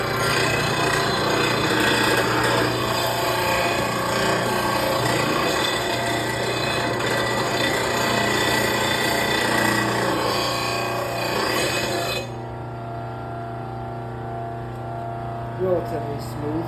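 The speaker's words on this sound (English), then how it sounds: "VEVOR blade sharpener just delivered. We'll unbox it, get it set up, and take a look." A VEVOR lawn mower blade sharpener grinds steady and loud for about twelve seconds, a harsh continuous rasp, then drops away to a low residual hum with a faint clink near the end.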